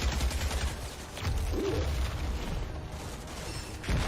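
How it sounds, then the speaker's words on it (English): An enemy fires a minigun at the floor in the Outriders Journey and Structure trailer. Sustained gunfire rumbles low and loud in a dense, continuous roar with some mechanical clatter, surging again near the end. "He was shooting at the floor. Is that like a minigun he's got?"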